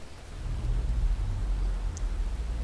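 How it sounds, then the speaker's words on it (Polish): Rain in the Forza Horizon 4 racing game during a night race in a Morgan Three Wheeler: a steady wash of rainfall over a low rumbling engine drone. "Oj, deszcz jest, lipa trochę."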